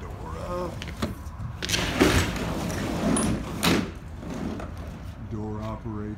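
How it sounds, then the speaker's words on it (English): Roll-up rear cargo door on a 2009 Isuzu NRR box truck being raised, a rattling metallic slide with a couple of louder bumps, heard close with a voice talking at the start and end. "Roll the door up."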